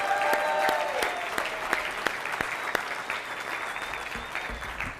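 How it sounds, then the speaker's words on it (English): An audience applauds teams at a bootcamp session, with sharp individual claps over a steady wash of clapping that thins toward the end and a voice briefly heard. "So let's give everybody a big round of applause,"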